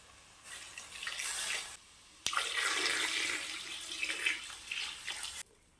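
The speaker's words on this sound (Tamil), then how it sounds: "தண்ணி சேர்த்துக்கலாம்." Water pours steadily into a cooking pot of mutton legs for curry, a broad splashing rush that stops briefly, then resumes louder for several seconds before cutting off.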